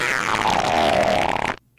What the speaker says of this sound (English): I can hear his fart